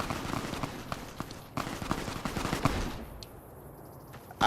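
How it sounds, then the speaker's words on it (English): Rapid bursts of gunfire in Fallout: New Vegas crackle continuously, with dense automatic shots and scattered single pops, then thin out toward the end before a final loud blast. "I hear shooting and I see explosions"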